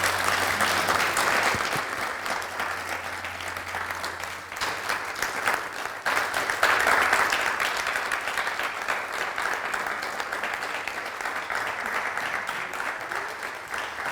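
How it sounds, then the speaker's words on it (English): A talk audience applauds steadily, a dense and even wash of clapping that keeps going without a break. "A round of applause for her, please."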